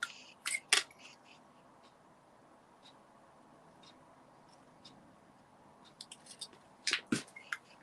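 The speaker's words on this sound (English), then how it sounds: "And then I just need to snip this." Scissors snipping paper during card making, a few sharp close cuts at the start and a quick cluster of snips near the end, quiet handling in between.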